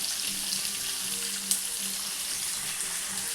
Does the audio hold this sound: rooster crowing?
no